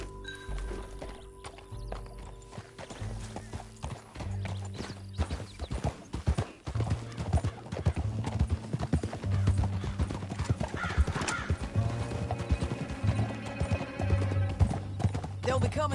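Hooves clatter in a fast, steady galloping rhythm in Red Dead Redemption 2, with a horse whinnying and a voice speaking over the pounding.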